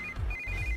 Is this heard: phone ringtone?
yes